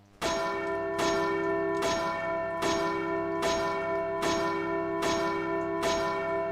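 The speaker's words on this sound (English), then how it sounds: "I didn't even have to use the other bell." A large bell rings in Resident Evil 4 on GameCube, struck seven times at a steady rhythm about once per second. Each toll is loud and rich and rings on without a break, with no talk over it.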